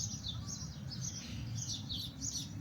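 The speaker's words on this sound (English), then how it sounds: "You can probably hear all the birds." Birds chirping and tweeting in repeated quick calls in the morning in Annecy, over a steady low background rumble, fairly distant, no talking.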